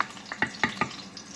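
Garlic frying in a pot, with a soft steady sizzle and four or five quick stirring scrapes at an even rhythm, close and clear, with no talking.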